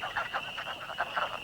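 A wood frog calls from a pond in a rapid series of short, clucking croaks, about seven or eight pulses, close and clear over a faint background.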